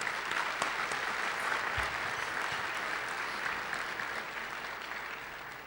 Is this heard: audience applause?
yes